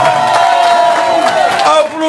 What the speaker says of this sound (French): Applaudissez, applaudissez, applaudissez pour le candidat numéro 4